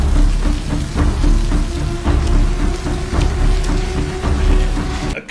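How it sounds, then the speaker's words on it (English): Heavy storm rain from a Last of Us episode pours in a dense, steady roar with low rumbling beneath and scattered sharper drops, loud and continuous. "A convergence storm or whatever it's called."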